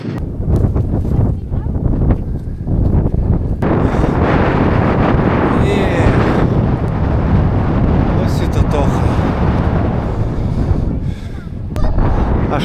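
Heavy wind on a hilltop burial mound batters the microphone in loud, rumbling gusts, with faint voices talking underneath the roar.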